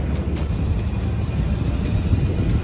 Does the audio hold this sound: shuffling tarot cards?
no